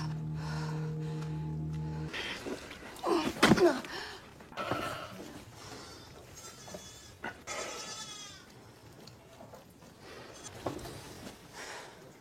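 Sheep on a farm during lambing bleat in several loud, wavering calls spread across the clip, some close and strained, with quieter rustling and movement between them.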